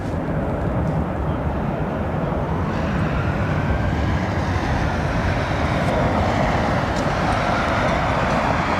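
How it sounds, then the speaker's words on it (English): A jet airliner's engines roar loudly and steadily as it decelerates with its inboard engines' thrust reversers deployed, the heavy rumble filling the whole stretch without a break, at London Heathrow Airport. "it is only the inboard engines that have the reverser mechanisms fitted"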